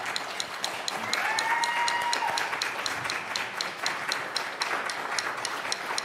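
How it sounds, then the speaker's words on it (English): Audience applause at a church service, a moderate crowd clapping steadily with some sharper individual claps standing out, fairly even in level throughout with a brief swell early on. "Everybody give them a round of applause."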